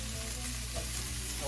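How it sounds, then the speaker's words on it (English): Onions sauté in a pan as they are stirred for color, a continuous close hiss and crackle of frying with soft scraping from the stirring, steady and unbroken throughout. "we're moving our onions around, getting some nice color on there."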